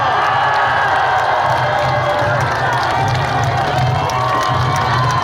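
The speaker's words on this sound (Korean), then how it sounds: "박수로 맞아주시기 바랍니다." A large outdoor crowd at a presidential candidate's campaign rally in Daegu cheers, shouts and claps loudly and continuously, with a rhythmic low pulse of music or chanting running underneath.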